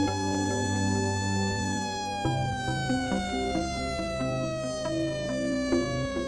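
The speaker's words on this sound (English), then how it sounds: "it's only a fire engine." Fire engine siren wailing steadily with layered harmonic tones that slowly drift downward in pitch, loud and continuous throughout, with no voices.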